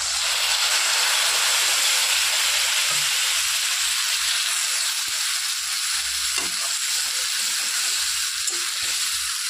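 Grated ginger and a mixed spice paste hit hot oil in a pan, giving a loud continuous hissing sizzle with faint scraping stirs underneath, steady throughout.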